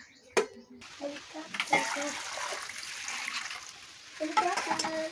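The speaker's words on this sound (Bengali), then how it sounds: "মাটনটাকে সবসময় গরম জলে ধুতে হবে" Mutton being washed in hot water, with running water and wet splashing, sloshing handling close by, a few sharper splashes standing out among the steady flow.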